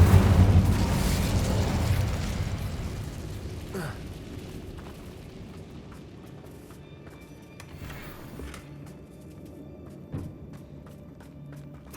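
A fire spell blast in the video game Hogwarts Legacy opens with a loud, low roaring burst that slowly fades over several seconds into quieter game ambience.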